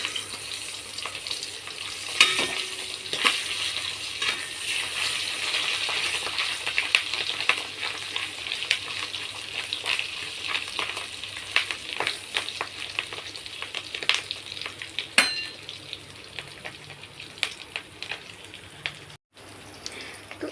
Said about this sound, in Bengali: তো মাছের ডিম ভাজা হচ্ছে এখন আবার